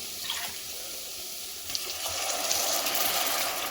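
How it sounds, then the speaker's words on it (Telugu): Boiled water pours steadily into a pot of millet khichdi, the splashing growing fuller and louder toward the end. "ఇప్పుడు మనం ఇలా యాడ్ చేసేసుకుందాము వాటర్ అనేది."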